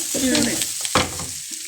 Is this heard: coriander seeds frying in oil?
yes